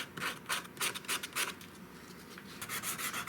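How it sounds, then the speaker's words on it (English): Hand sanding with 150-grit sandpaper along the edges of a reproduction antique wooden mantel, giving soft rhythmic rubbing strokes in bursts, close and fairly quiet, with no voices. "I used a fairly rough sandpaper to start with to round over those edges. Now I'm just smoothing it up with some 150."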